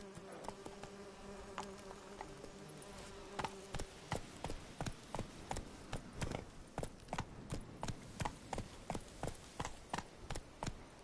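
A horse gallops in The Witcher 3 on PS5, with rapid, evenly spaced hoofbeats that build into a steady rhythmic clip-clop after a quieter, buzzier opening.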